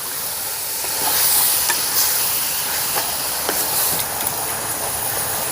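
Two kilograms of beef sizzle in a pan over a village cooking fire, giving a constant bright hiss that swells slightly as the meat is stirred.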